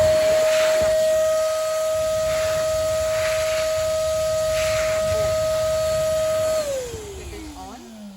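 Compressed air hisses steadily from the nozzles of a balloon inflating machine, a loud continuous blow with a sustained whistle-like tone that drops in pitch and fades near the end, with faint talk beneath.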